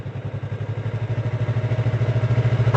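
A motorcycle engine chugging in a steady low rapid pulse, close and fairly loud, rising slightly as the bike starts to move, with no speech.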